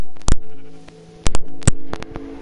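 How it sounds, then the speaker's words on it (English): Several short Minecraft sheep bleats, loud and close, come in separate bursts with brief gaps and no talking, as the sheep is killed in the game. "while Mamba kill the sheep, okay."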